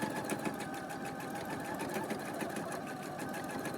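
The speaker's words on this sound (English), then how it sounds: "if I move my sewing machine here" Domestic sewing machine running steadily for free motion embroidery, a continuous close whirring drone with a rapid needle rhythm and no pauses.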